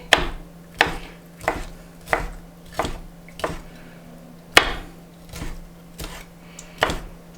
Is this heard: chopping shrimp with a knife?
yes